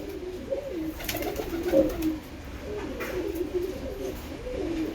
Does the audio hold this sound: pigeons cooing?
yes